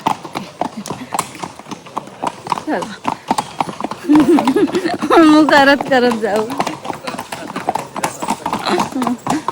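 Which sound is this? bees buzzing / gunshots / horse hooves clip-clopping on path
horse hooves clip-clopping on path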